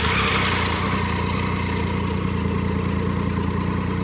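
Honda Hornet motorcycle engine idling steadily after starting, a constant low rumble with a fine mid-range buzz that stays loud and even throughout, with no talk over it.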